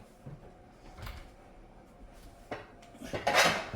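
A baking pan is pulled out in a kitchen while making a sweet potato cake: quiet knocks and metallic rattles of pans and cupboard handling, building to a louder clattering scrape at the end, close by.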